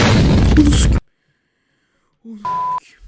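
A sudden loud video game explosion roars for about a second and then cuts to silence, followed by a brief electronic tone.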